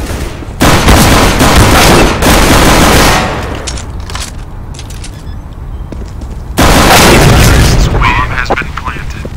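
Gunfire in a competitive shooter match, with loud dense bursts of firing in two sustained stretches separated by a quieter gap with faint shots; a player talks over parts of it.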